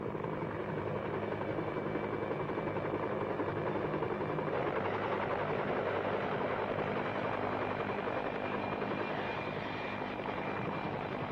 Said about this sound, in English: A helicopter over Buckingham Palace on a summer morning.